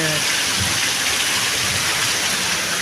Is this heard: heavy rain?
yes